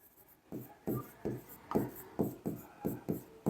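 Pen or chalk strokes of someone writing out a solution set in a maths lesson, about eight short scratchy bursts in a steady rhythm, close and clear, with faint background voice.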